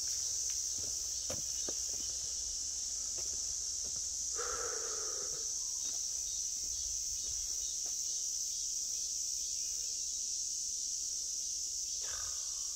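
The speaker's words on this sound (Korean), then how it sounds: "매미 소리는 난리 부르소." Cicadas sing around a quiet mountain prayer retreat in Taebaek, Korea: a loud, continuous high buzzing drone throughout, with occasional footsteps and small nearby sounds underneath.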